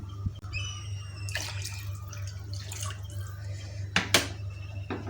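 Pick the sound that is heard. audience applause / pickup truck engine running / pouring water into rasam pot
pouring water into rasam pot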